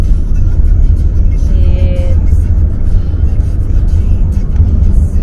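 Inside a moving car on a drizzly day, a steady low road and engine rumble fills the cabin continuously at a constant level.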